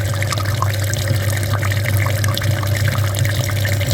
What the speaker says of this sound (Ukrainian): Так, миємо Б7 Америку